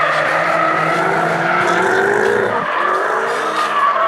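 A loud, sustained Roush Ford Mustang engine roars at high revs with tire screech while drifting, a continuous aggressive growl close by.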